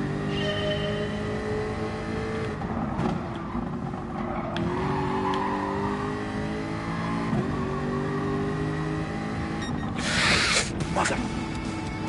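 Car engine in a driving video game, holding a steady drone with rising and falling revs, tyres squealing and skidding midway, and a burst of noise near the end, with faint talk in places.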